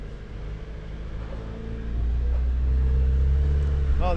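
A turbo four-cylinder e-Torque hybrid engine rumbles low, then swells into a louder, steadier rev, with faint voices in the background.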